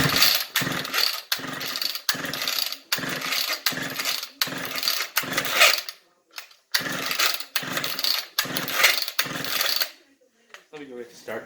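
A flooded vintage chainsaw is pulled over repeatedly without catching, a regular series of loud starter-rope pulls with sputtering bursts, a short pause, then more pulls followed by quiet voices.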